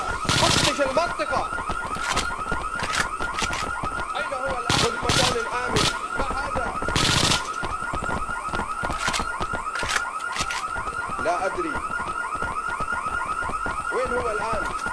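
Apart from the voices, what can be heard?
alarm going off in the video game IGI 2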